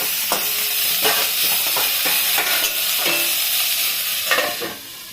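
Drumstick flowers frying in a pan, a steady loud sizzle broken by repeated scraping strokes of a spoon stirring, close and continuous without any voices.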